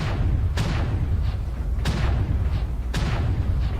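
Heavy cannon fire from a shoulder-mounted gun on a Hunchback mech in a video game: three loud, booming shots spaced about a second apart over a constant low rumble.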